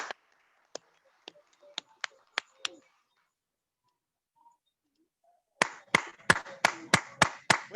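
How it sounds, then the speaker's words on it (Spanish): A few people clapping in church, first a handful of sparse single claps, then a pause, then a run of regular, louder rhythmic claps close by. "démosle un aplauso al Señor Todopoderoso"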